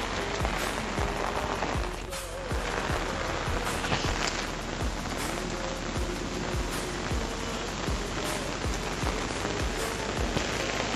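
Heavy rain pours in a jungle, a loud, unbroken hiss of water drenching everything close by, with recurring low dull thumps beneath the downpour.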